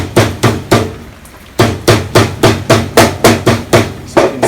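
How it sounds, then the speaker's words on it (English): A small ball peen hammer smashes willow bark shoots against wood, striking in a steady, loud series of about a dozen sharp thuds with a brief pause early on and no talking. "we're just going to smash them a little bit with the hammer. I got a little ball peen hammer."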